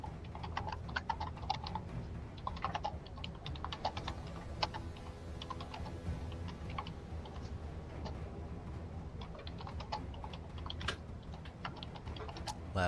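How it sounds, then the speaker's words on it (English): Fast, loud clattering on a computer keyboard goes on without a break, the keys clicking and tapping in uneven bursts close to the microphone during an online tabletop game session. "Loud typing noises."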